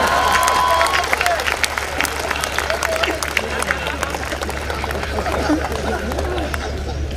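Clapping from a live audience at a comedic poetry mushaira in Dubai, a sustained wash of applause mixed with crowd chatter and cheering, lasting several seconds.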